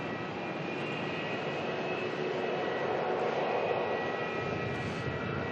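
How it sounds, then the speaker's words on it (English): Qantas Boeing 787-9 Dreamliner, flight QF21 bound for Dallas Fort Worth, taking off at Melbourne with a steady, loud broadband jet engine roar and a faint whine, sustained evenly throughout with no voices. "lining up now, heading off to Dallas Fort Worth, QF21, the Boeing 787-9 Dreamliner"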